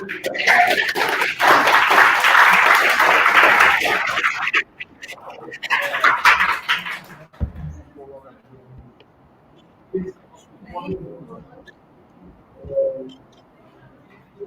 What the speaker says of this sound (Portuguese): Vamos aplaudir a nossa.